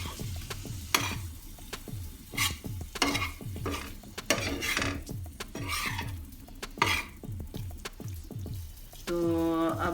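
Mutton liver pieces being stirred with lemon juice on a hot tawa, giving a steady sizzle with repeated scraping and clinking strokes of a utensil, close and fairly loud, with no talk.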